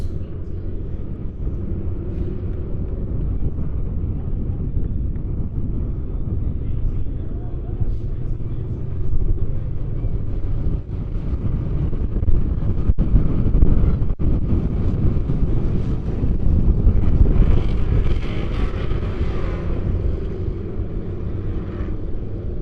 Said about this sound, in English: Coming on the track right now, we've got the Street Stocks.